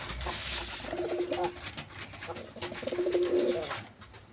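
Domestic pigeons coo, a male stirred up beside his female mate, giving two soft warbling bursts close by over a steady background hum.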